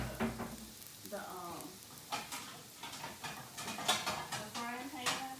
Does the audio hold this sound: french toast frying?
yes